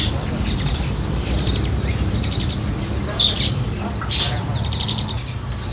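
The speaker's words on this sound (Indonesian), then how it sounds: "Berikutnya ada juga stok burung anis merah, teman-teman." Young orange-headed thrushes chirp in a busy Jakarta bird shop. The chirps are short and repeated and sit over a steady background din.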